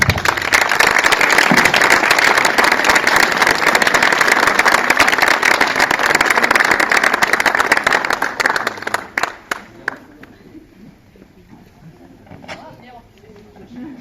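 Loud, dense audience applause at a medal ceremony for Jean-Luc Fresnay carries on strongly for several seconds, then breaks apart into scattered individual claps and fades to near quiet with faint room murmur.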